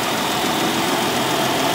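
A 2007 Jeep Wrangler engine with a replaced lower block idles loudly and steadily, close up, with a dense rough rumble and vibration.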